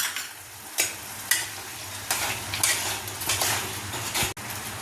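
Spices and sour yogurt being stirred in a pan: a low sizzle under repeated scraping and knocking strokes of a spoon against metal, close and moderate in level, with no talking.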